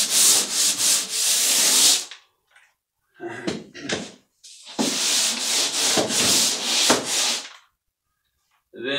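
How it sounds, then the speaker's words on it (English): Several bursts of rough, hissing sanding strokes on drywall joint compound, close and loud, separated by short pauses. "you want to just do a light sanding over those edges"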